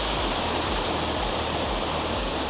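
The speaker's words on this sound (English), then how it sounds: "this is Doaly Waterfall, which is the highest waterfall in all of Timor-Leste" Doaly Waterfall in Timor-Leste, roughly 200 meters high, producing a loud, constant broadband roar of falling water that fills the scene without pause or voices.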